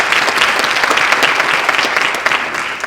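Audience applauding a speaker at a Brain Support Network morning talk on dementia and improv, a steady dense wash of many hands clapping, close and sustained throughout.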